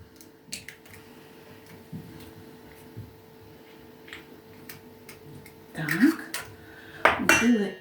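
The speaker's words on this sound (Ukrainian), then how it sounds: "Вбиваємо одне яєчко." Light clicks and taps of an egg shell cracked against a bowl with salt, followed by a couple of louder clattering bursts as the egg is stirred, with brief talking.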